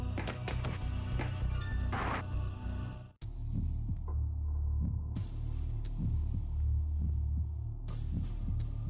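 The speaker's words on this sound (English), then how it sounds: "Why am I now hearing a heartbeat?" Heartbeat sound effect in the video game Shin Megami Tensei: Persona, a low, regular throbbing pulse repeating steadily over a droning hum, with a brief dropout near the middle before the beat resumes.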